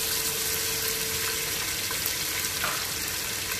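Chopped onion, chili, curry leaves, thyme and mint hitting a hot pot, giving a dense, continuous sizzle at close range without any voices.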